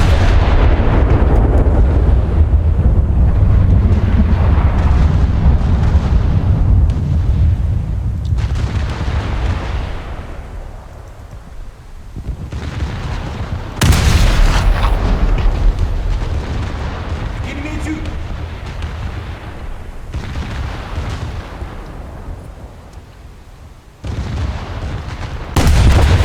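Heavy battleship main gun salvos boom in a naval combat video game, long rumbling blasts rolling one after another, loud and close, with a sharp new salvo partway through, under a continuous low roar.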